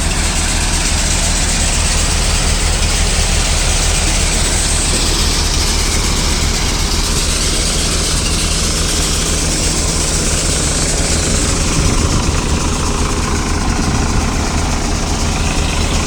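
A Sonalika 740 tractor drives a Jangid thresher threshing chickpeas in Dayal village, Mahuva, producing a loud, constant, dense engine and machinery roar close by with no pauses.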